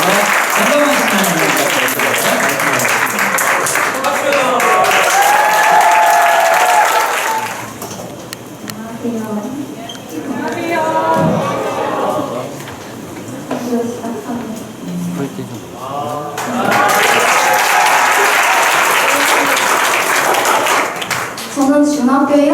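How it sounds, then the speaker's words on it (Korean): An audience at a Christian alternative school worship service applauds student preachers, loud, dense clapping that fades to a quieter stretch with talking and murmurs before swelling again into full applause. "우리 큰 박수로 우리 환영을 드리겠습니다."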